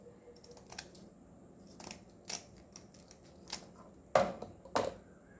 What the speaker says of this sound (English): you can take a scissor and cut this, and then cut this